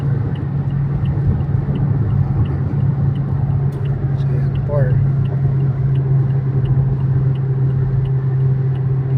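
A car engine held at high revs while driving on the CALAX expressway, a steady loud droning rumble throughout, with people talking over it.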